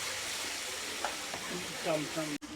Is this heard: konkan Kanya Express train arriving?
no